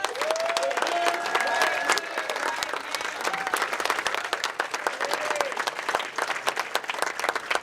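A crowd at a PWBA professional women's bowling tournament, the Waterloo Open, breaks into sustained applause, dense clapping from many hands with a few cheers rising over it, fairly close and loud.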